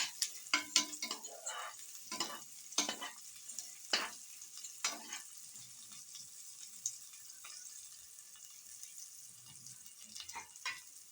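Asafoetida sautéing in a pan for a banana flower curry, stirred with a series of close, sharp scraping and sizzling bursts that thin into a quieter, steady fry.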